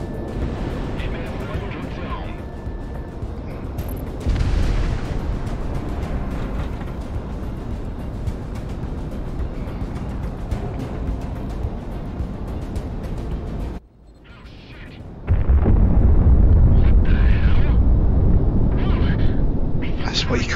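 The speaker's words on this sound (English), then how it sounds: "secondary explosion." Deep booming explosions from the Project Wingman flight combat game, including a secondary blast after a cargo ship is hit, swell over a constant roaring rumble while someone talks throughout.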